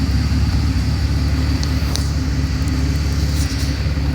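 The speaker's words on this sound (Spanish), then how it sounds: "el motor se está comportando bastante extraño, con un alto misfire" A 2002 BMW engine with a random misfire from vacuum leaks idles at normal temperature, a loud steady low rumble with an uneven pulsing beat and faint ticks above, no talking.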